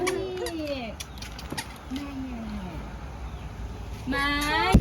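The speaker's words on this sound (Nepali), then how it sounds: "ये रितेशको नयाँ माया बिरालो है" A cat meows several times, with drawn-out cries that rise and fall close by. Voices, including a child's, can be heard nearby.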